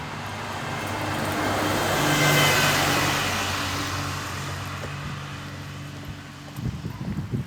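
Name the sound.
buses passing on Henderson's Road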